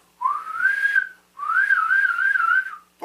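Two clear whistled notes, each wavering slightly in pitch, separated by a short pause; solo and close, the pitch changing through tongue movement alone.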